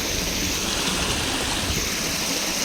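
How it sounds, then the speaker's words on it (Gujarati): A stream flows steadily beside a Shiva temple, a continuous broadband rush of running water, close and fairly loud, with no voices over it. "અહીંથી જો ઝરણું જાય છે આમ."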